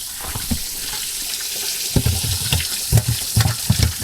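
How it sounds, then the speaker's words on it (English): Water splashes and gurgles in a boat's live well as the aerator pumps, with irregular bubbling bursts growing busier in the second half, close and fairly loud. "Go ahead and turn the aerator on."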